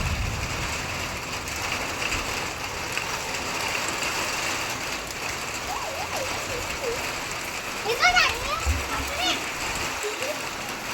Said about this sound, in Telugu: గట్టిగానే పడుతుంది వర్షం.